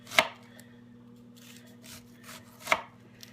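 Knife chopping cabbage on a cutting board, two sharp close chops separated by a pause and softer scraping, over a low steady hum.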